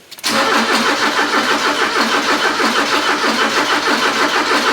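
A Porsche 944 engine catches and starts when the key is turned after a fuel pump relay repair, then settles into a steady, loud, close idle with a regular pulsing beat.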